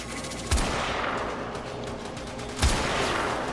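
Gunfire from a scoped weapon in the video game Warframe during a Void Defense mission, two loud single shots about two seconds apart over a steady, dense game soundscape.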